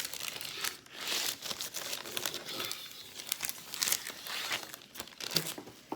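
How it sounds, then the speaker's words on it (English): Parchment paper laid out over a sprayed baking pan, crinkling and rustling in a close, soft series of irregular crackles and crumples. "put on some parchment paper."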